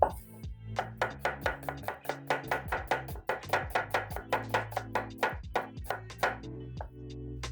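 A Chinese cleaver chops onion on a board in a fast, even rhythm of crisp knocks, close and clear with short pauses between runs of strokes.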